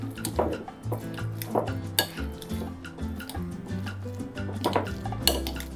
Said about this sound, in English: So I like to use a potato masher to mash up my avocados